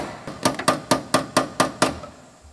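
Repeated hammer blows knocking a crease out of a car body panel on a wide-body Scat Pack under rebuild, about seven sharp metallic strikes in steady rhythm, close and clear with no talk.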